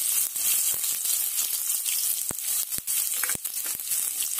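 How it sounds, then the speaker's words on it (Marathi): Onion frying in a couple of spoons of oil in a kadhai, a steady loud sizzle with sharp crackling pops scattered throughout, heard alone without talk. "आता कढईत आपल्याला 1 ते 2 चमचे तेल घालून कांदा भाजायचा आहे।"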